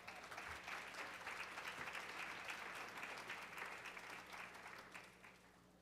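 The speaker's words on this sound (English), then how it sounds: "would you just welcome with a round of applause" Audience applause for a speaker being welcomed on stage at a talk, a steady, dense round of clapping that holds evenly throughout, with a low hum underneath and no speech.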